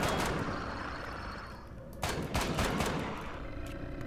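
Shotgun fire in the sci-fi survival game Empyrion: Galactic Survival: a few sharp, loud blasts in quick succession after a quieter stretch, with a muffled rumble before them.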